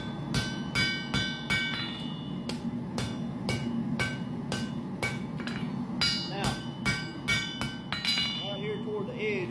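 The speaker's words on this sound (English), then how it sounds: "Toward the edge where I'm hammering, it's wanting to mushroom." Steel hammer blows ring out on a titanium knife blank, a dozen or so sharp metallic clinks in an uneven rhythm, close and bright, with someone talking between strikes.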